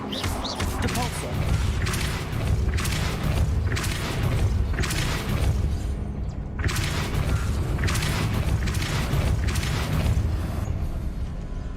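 Depulso spell effects in the video game Hogwarts Legacy land as a loud run of heavy booming thuds, roughly one per second, with a pause midway, over continuous game background and occasional voice.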